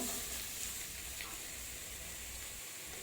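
Bitter gourd and potato sizzle in hot oil in a wok. The frying hiss is soft and steady, with only faint stirring, and no voice is heard over it.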